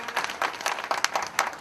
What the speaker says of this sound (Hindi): सब लोग तालियों से स्वागत करेंगे।